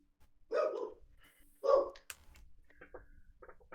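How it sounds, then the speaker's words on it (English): A dog gives two distinct barks about a second apart, moderately loud, followed by softer scattered clicks and faint noises. "Do you hear that dog too?"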